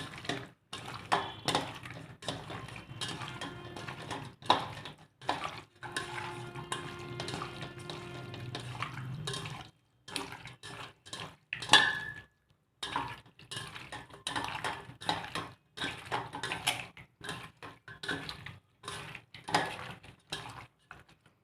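Chicken pieces are mixed in a pot with salt, chili, chicken masala powder and garam masala, making close, irregular scraping, clinking and clattering in short bursts with brief pauses, with no talk.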